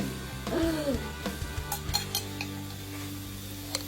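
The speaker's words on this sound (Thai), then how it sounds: "พอกระเทียมเริ่มสุกนะคะ ใส่มันกุ้ง" Garlic and shrimp fat fry in a pan with a soft sizzle, broken by a few sharp clinks and scrapes of a utensil against the pan.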